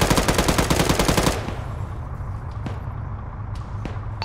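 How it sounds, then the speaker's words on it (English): Rapid machine-gun bursts from an Arma 3 infantry firefight inside a hospital, loud and close for the first second and a half, then scattered fainter single shots and distant reports over a steady battle rumble. "I just shot a guy trying to run through the fucking lobby of the hospital"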